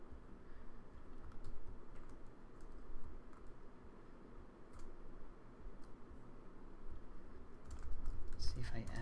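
Close, quiet typing on a computer keyboard while coding, a steady patter of soft key clicks that continues throughout with small bursts and pauses, and a faint voice at moments.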